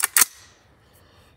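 Single sharp gunshot from a budget-build rifle, two quick close cracks in a burst followed by a short fading echo, with no voices.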